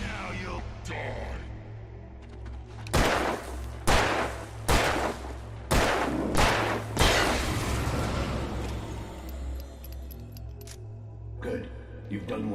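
Gunfire in a cutscene from the Alan Wake video game, several loud sharp shots and bursts over a low rumbling backdrop, with voices speaking around them.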